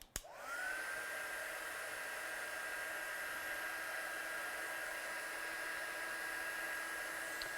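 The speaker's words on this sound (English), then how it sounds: "let me just dry that with my heat gun" A heat gun drying watercolour ink on stamped paper, switching on with a brief click and then blowing a steady, even whooshing hiss with a faint whine, close and uninterrupted.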